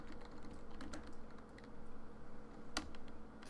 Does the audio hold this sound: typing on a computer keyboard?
yes